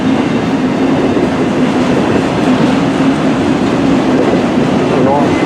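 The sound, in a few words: CN M384 northbound freight train passing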